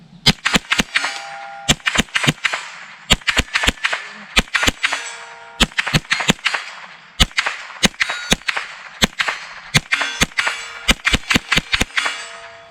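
A Tippmann Arms M4 22 Pro rifle fires rapid sharp cracks in quick clusters of two to four shots, with ringing metallic target hits, close and loud, repeating across the whole stretch without speech.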